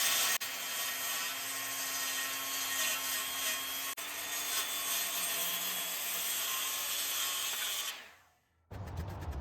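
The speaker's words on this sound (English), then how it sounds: "I'm using a circular saw running along the straight edge clamped to the board" A circular saw rips a board along a clamped straight-edge fence, a loud steady high whine with a grinding cutting roar lasting about eight seconds, then winding down abruptly before a brief restart of noise.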